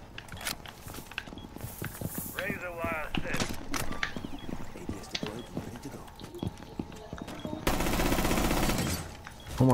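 Rapid gunfire in the tactical shooter Rainbow Six Siege: scattered sharp shots and bursts mixed with footsteps and clattering, moderately loud, with a steadier rushing noise near the end.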